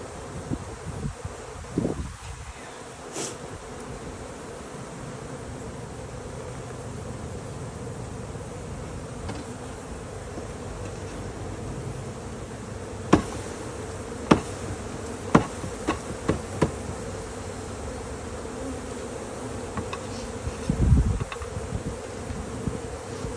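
Honeybee colony swarming outdoors, a dense continuous buzzing hum of many bees with occasional nearby bees zipping past and a few knocks and rustles.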